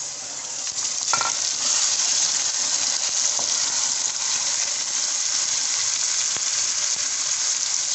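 Chicken dropped into a pan of lightly browned onions and frying with a loud, steady sizzle that holds for the whole stretch, a brief clatter of stirring near the start, no voices.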